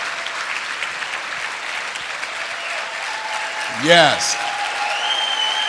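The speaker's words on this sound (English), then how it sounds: "Let's give him a tremendous round of applause, if you please." A large audience at a network marketing event gives a sustained round of applause, a steady broadband wash of clapping throughout, while someone briefly speaks over it.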